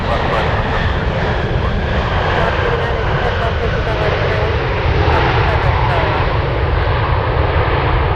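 A heavy Boeing 747 Dreamlifter landing at Anchorage makes a steady, loud jet engine roar that continues without a break, with a faint voice under the noise.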